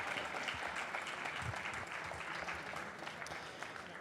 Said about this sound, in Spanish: Un aplauso más para ellos.